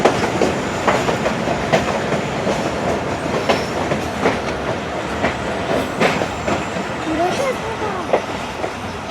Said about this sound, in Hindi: ट्रेन हमारी लांडी जंक्शन अप्रोच बना रही है।